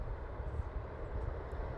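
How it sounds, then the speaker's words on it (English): A Bombardier aircraft of Air Canada Express bound for London rumbles low and fairly faint at Toronto airport, a steady distant engine drone. "This is Bombardier, Air Canada Express going to London."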